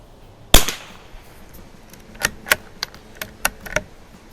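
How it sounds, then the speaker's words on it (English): One sharp, loud crack from a Winchester 52 .22 target rifle rings out, followed by a scatter of fainter, quick clicking snaps spaced irregularly over the next few seconds. "Love shooting these old 22s."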